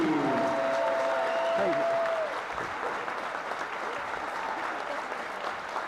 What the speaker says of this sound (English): So one more round of applause for the 1995 Mighty Oaks State Finals team.